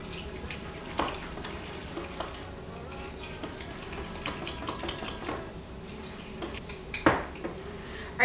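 Pumpkin pie mug cake batter with egg being stirred, with scattered clinks and taps of a utensil against the dish over a soft scraping background, a sharper knock near the end.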